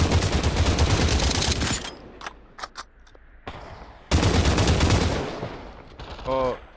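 Dense, loud bursts of automatic gunfire in the VR shooter Population One, two long sustained volleys broken by a few scattered single shots, and a voice briefly heard at the end.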